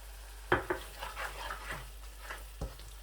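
A spoon scrapes and knocks in a pan as aloo matar gajar masala is mixed with salt, a few distinct clinks over a faint, soft sizzle.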